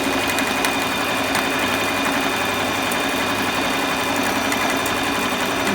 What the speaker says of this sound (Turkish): Şu an makinem dikişte.